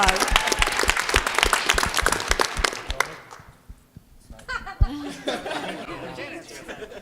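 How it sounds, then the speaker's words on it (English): Audience applause at a tech conference speakers panel, loud and crackling for about three seconds, then fading as people talk and chuckle nearby. "Is he a speaker? Yeah, round of applause."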